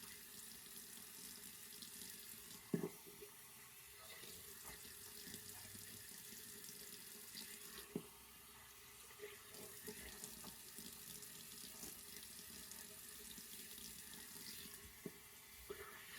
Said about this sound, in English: I'm going to wet my face, wet my beard.